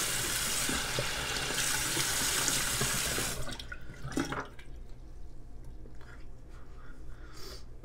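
Tap water runs steadily into a sink while a face is rinsed, a loud continuous stream for about three seconds that then stops, leaving faint drips and small splashes.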